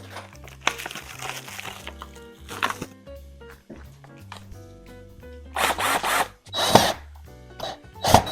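A power drill bores into wooden studs along a window frame in a small room under renovation, coming in short close bursts with pauses and rustling handling noise between them.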